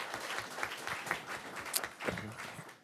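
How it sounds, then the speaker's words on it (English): Audience applause fills a city council meeting in Irondale, a steady patter of many hands clapping at moderate loudness from the room, continuous throughout with small swells. "Yeah, you can clap right there."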